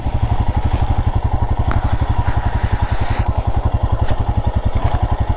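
A Royal Enfield Himalayan BS6 motorcycle rides off-road on the way to Devarayanadurga Hills, its single-cylinder engine thumping in a fast, steady, loud pulse close by, with faint rattles over the top.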